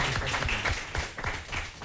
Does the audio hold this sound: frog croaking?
no